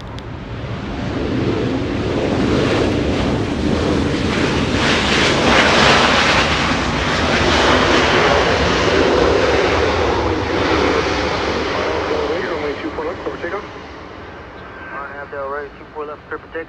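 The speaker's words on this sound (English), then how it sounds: "we're going to go pan the camera over to the 737 arrival. The 737 flying in from San Francisco" A Boeing 737 arriving from San Francisco at Los Angeles International Airport makes a loud, sustained jet roar that swells and slowly fades, with wind buffeting the microphone throughout.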